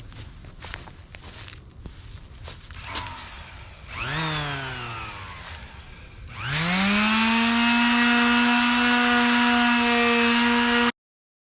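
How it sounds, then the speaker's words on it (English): A power sander on a wooden outdoor shower floor whines up and runs steadily and loudly near by, after a shorter burst and some scattered knocks and movement. "get a quick video of myself sanding the floor for the shower"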